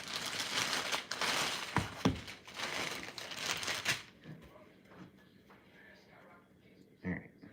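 Knife sawing through a loaf of artisan-style challah bread on a cutting board, a few seconds of close, crackly crust-crunching strokes before it quiets into softer handling noises.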